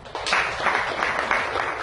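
Brief burst of audience applause at a talk, a dense wash of clapping from a crowd, moderately loud and steady for under two seconds.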